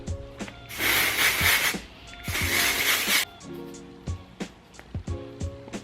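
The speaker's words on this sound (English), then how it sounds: "I'm just gonna spray that throughout" Two long hissing bursts of texturizing spray from an aerosol can sprayed through hair, each lasting about a second, followed by soft rustling and clicking of handling.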